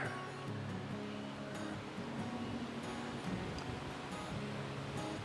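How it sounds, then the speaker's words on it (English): A brisk river flows with a faint, even wash of moving water, soft and continuous in the background, with a low murmur and a few light knocks nearby. "There is a bit of pace on the river."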